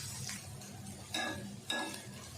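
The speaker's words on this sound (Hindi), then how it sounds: "इनको हल्के हाथ से, बिल्कुल हल्के हाथ से हमने इसको मिक्स कर लेना है" Boiled rice being gently mixed in a pan, with soft scraping stirs and two sharper clinks of a spoon against the metal, close and moderately quiet.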